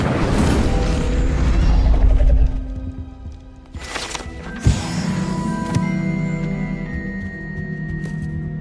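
A fire spell cast in Hogwarts Legacy: a loud roaring whoosh of flame up front, then a sharp burst near the middle and a lingering crackling, shimmering magical tail with tonal hums.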